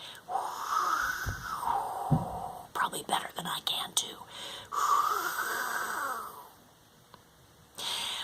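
Several voices blow long breathy whooshes imitating rushing wind, rising and falling in two swells, with a brief spoken remark between them.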